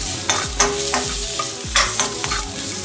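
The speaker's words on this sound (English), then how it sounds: "You see, it's already slightly frying." Garlic and champignon mushrooms sizzle steadily in sauce in a pan, with repeated scraping and stirring strokes roughly every half second, close and continuous with no voices.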